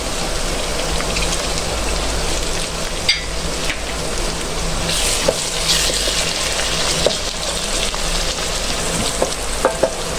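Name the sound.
tomatoes added to sizzling frying masala, stirred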